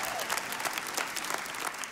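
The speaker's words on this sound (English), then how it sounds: "Come on, shout, clap, high five, do something." A church congregation claps in a dense, steady burst of applause with scattered cheers, loud and close throughout, over a short moment.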